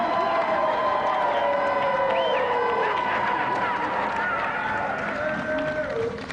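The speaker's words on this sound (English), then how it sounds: "Round of applause, please, but not too loud." A television game show studio audience gives a round of applause and cheers, a busy crowd noise with honk-like whoops mixed in that fades slightly toward the end.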